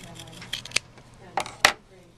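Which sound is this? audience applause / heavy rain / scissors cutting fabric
scissors cutting fabric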